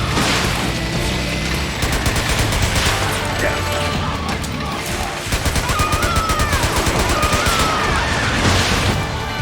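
Sustained video-game gunfire from Metal Gear Solid 4: Guns of the Patriots, dense rapid bursts and automatic fire with explosive booms, continuous and loud under game music and effects.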